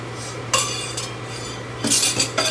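A metal spoon stirs pork blood stew (dinuguan) in a pot, with a few scraping, clinking strokes over a low steady hum; no one speaks.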